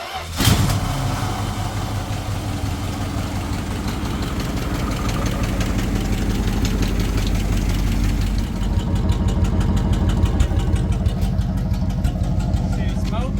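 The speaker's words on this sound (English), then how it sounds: "Wayne, pump the gas one time." A car engine idles steadily and loudly right after the gas pedal is pumped once, with a rough, continuous rumble and a faint rhythmic knock, and people talk over it.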